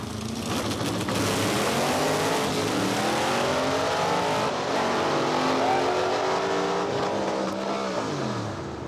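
A supercharged drag car with a larger blower pulley and roughly 1050 horsepower makes its pass, the engine roaring loud and continuous as it climbs through the gears and rises in pitch with each one.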